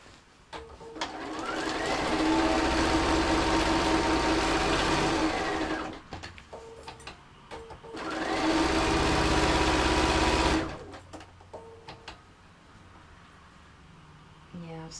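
An electric sewing machine stitches an ear onto a fabric animal cushion, running in two long steady whirring bursts with short stops and clicks between them, close and loud.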